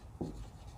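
A pen scratches briefly on notebook paper during handwriting, one short close stroke heard alone against quiet room tone.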